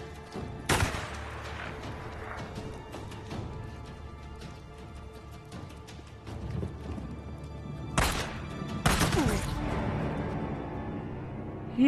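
Sniper shots crack out in the Days Gone video game, with sharp loud reports standing out over a busy game soundscape and several shots bunched close together late in the clip.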